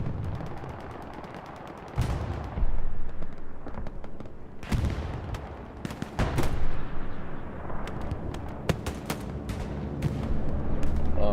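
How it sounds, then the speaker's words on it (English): A bombing run in the World War II shooter Hell Let Loose on the Omaha map: loud rolling explosions and bursts of gunfire, with sharp cracks and heavy booms piling up over continuous battle noise. "I'm hearing a bombing run."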